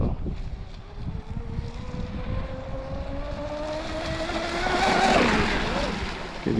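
Pro Boat BlackJack 24 V2 RC speedboat with a custom prop making flybys on plane, its high motor whine rising and sweeping in pitch as it approaches, peaks loud up close, then passes, with water hiss and wind underneath.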